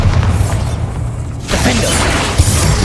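A Bombarda spell explodes in Hogwarts Legacy with a deep, loud boom that swells into a broad rumbling blast, following a few busy seconds of combat noise.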